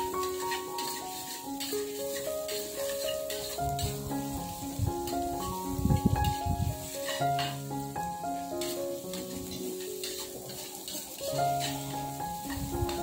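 Red chilies and bay leaves frying in a pan for a stir-fry of anchovies and petai beans, a steady close sizzle with light stirring scrapes under music playing throughout.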